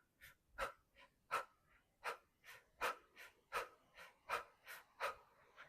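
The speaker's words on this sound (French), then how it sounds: "on va simplement inspirer, expirer. Et on va forcer sur l'expiration." Forced open-mouth exhalations in a kundalini yoga breathing exercise come close and clear as about fifteen sharp, rhythmic puffs, each short burst followed by a quiet inhale, with no speech.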